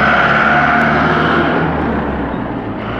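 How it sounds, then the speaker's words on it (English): Loud cars rushing past close by on a road in the Gironde countryside, a continuous heavy roar of engines and tyres that fades slightly toward the end. "So loud cars."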